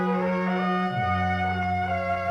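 Three violins and an electronic Sackbut synthesizer play a short quartet passage together, sustained harmonized tones with one line sliding downward, close and clear with no talking.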